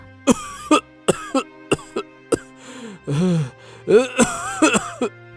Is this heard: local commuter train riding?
no